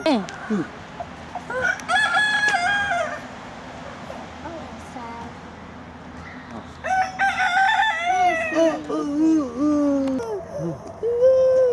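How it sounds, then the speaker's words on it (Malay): Chickens and a rooster at Basel Zoo, with clucking in the background and a loud rooster crowing in drawn-out cock-a-doodle-doo calls near the start and again toward the end, while people chat nearby. "Ini ayam makan dedak ayam ni."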